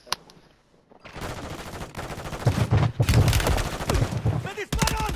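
Bursts of automatic gunfire in Call of Duty strike the player, starting with a sharp single crack, then rising into dense rapid volleys that grow louder and more continuous, with a voice shouting over them.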